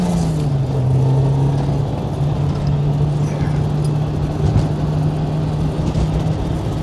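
A Toyota AE86 with a 4AGE engine on a mountain touge road, a loud, close engine drone that drops in pitch as it slows and downshifts, then holds a steady hum.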